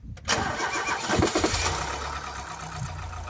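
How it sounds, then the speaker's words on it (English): A Ford Cortina MK3 engine cranks briefly, catches and fires, then settles into a steady idle, close and fairly loud with no speech. "Let's see if he fires cranks over,"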